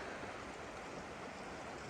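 The Metolius River in Oregon near Camp Sherman runs in a steady, full rush of water, close and continuous, with no voices.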